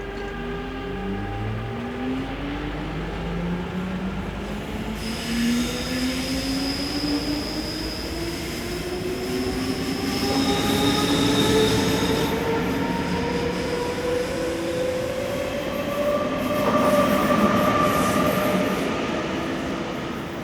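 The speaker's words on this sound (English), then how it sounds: "these three Class 450 depart with a service bound for Brugg" Three coupled Swiss Class 450 electric trains pull away from a station on the main line, rising motor whine climbing steadily in pitch over rumbling wheels and faint squeals, growing louder as they accelerate past.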